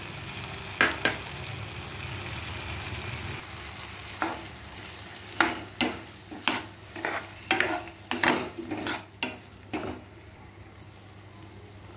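Tomato goes into a frying pan of potato and spinach curry, giving a soft continuous sizzle broken by a series of sharp scraping stirs and clinks of a spoon against the pan.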